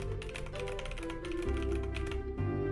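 Quick typing on a computer keyboard, a dense run of close, crisp key clacks with steady rhythm and no talk.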